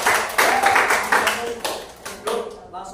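A class claps briefly after a group report, with a few scattered bursts of clapping that fade quickly over a couple of seconds.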